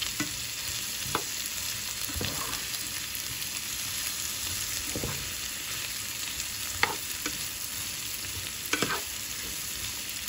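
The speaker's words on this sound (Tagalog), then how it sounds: "Yung salmon, lutuin lang natin ng 5 minutes." Salmon frying in a pan with olive oil, butter and a little garlic, a steady close sizzle with occasional sharp stirring clicks and scrapes of a utensil against the pan.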